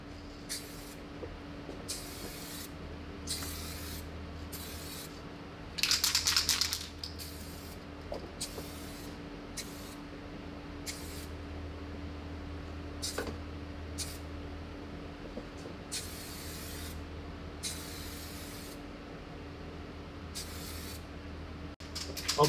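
Spray paint hisses onto a BMW E60 headlight in repeated short bursts separated by pauses, over a quiet steady background hum, with one longer, louder burst partway through.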